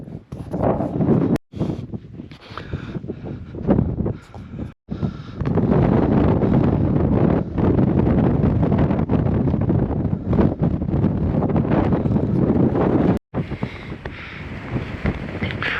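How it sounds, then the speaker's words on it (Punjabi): Strong wind sweeps across New Zealand's largest sand dunes, driving fine sand grains; a loud, continuous roaring rush fills the air, broken by a few brief dropouts. "ਹਵਾ ਇੰਨੀ ਕਿ ਤੇਜ਼ ਚੱਲਦੀ ਹੈ ਕਿ ਗੱਲਾਂ ਹੀ ਛੱਡ ਦੋ ਤੇ ਰੇਤਾਂ ਦੇ ਕਾਣ ਆਏ"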